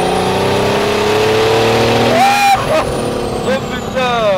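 A tuned BMW 330d diesel, stage 7.5 at 470 hp, accelerates hard with a loud rising engine note, then a sharp gear change and a renewed climb, with someone speaking over it.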